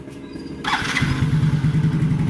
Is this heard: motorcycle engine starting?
yes